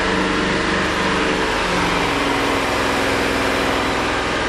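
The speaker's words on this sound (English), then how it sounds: "Nice, smooth, steady idle." A 2000 BMW M5 idles steadily in a garage, a smooth, even engine drone holding constant and close throughout with no revving.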